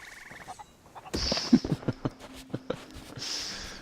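Chickens in the video game Sea of Thieves, a run of short clucking and gobbling calls in quick rhythm, fairly close, over faint ambient game sound without talk.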